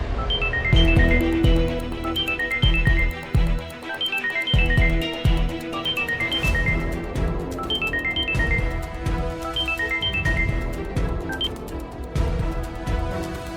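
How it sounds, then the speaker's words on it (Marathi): A mobile phone ringtone plays a short melodic phrase that repeats several times, fairly loud and mixed with a dramatic background score. "मग उचल, नाही तर बाहेर फेकून देईन मी तो फोन."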